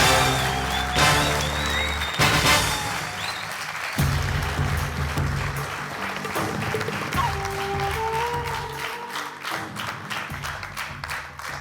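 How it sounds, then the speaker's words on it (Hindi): A studio audience on a Zee TV show gives a sustained round of applause for Hema ji, dense clapping that carries on steadily with music playing underneath. "जी तो मेरा भी यही चाहता है कि 1 घंटा हम सिर्फ तालियां ही बजाते रहें हेमा जी के लिए"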